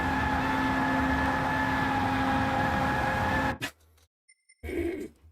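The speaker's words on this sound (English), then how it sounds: "so this car, again, it's still spinning its tyres" Car wheelspin and engine revving in Gran Turismo 7: a loud, steady droning engine note holds for several seconds, then cuts off abruptly, leaving near silence before a short burst of engine sound returns.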